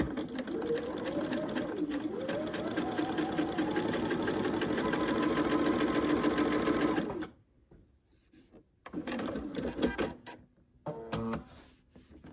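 Sewing machine stitching quilt pieces for a Carpenters Wheel and Stars pattern, a loud steady whirring run of about seven seconds, then stopping, followed by brief quieter bursts of stitching.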